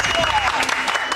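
Studio audience applause on a cooking game show, a dense wash of clapping heard close and steady for a moment, with voices talking over it.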